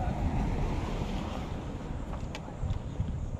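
Wind blowing near the sea, a constant low rushing roar with buffeting gusts against the microphone and faint surf-like wash underneath, steady and fairly close.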